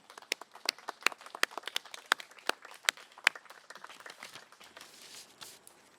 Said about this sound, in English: So I'd like to give a hand of applause to President Higgins.